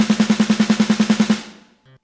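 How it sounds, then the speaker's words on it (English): A programmed MIDI snare roll at flat default velocity: about fourteen evenly spaced, identical hits in a rapid, mechanical stream, then a ringing tail that fades out. "if we want to program a snare roll"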